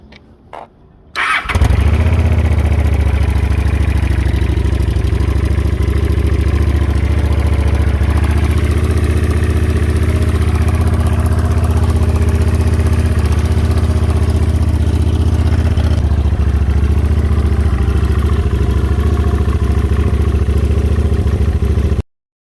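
A motorcycle with wrapped exhaust pipes cranks briefly, then catches and settles into a loud, steady idle with a low rumble. The idle carries a slight clatter and runs unbroken for about twenty seconds before cutting off.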